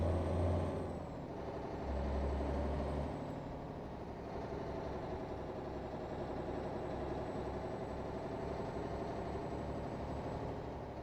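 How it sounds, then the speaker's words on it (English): Mack R truck pulling a Fruehauf trailer rumbles steadily near Salmon, Idaho, its engine note dropping and rising through a gear change with a brief air-brake-like hiss early on, then a continuous rolling drone with road noise. "Alright, I guess I need to shift gears. There we go. Alright, we're rolling."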